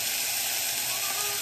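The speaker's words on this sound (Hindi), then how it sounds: "यहाँ पे अभी मेथी का तड़का लग रहा है" Fenugreek seeds tempering in hot oil with asafoetida and cumin, a loud, close, steady sizzle and hiss that fills the short clip on its own.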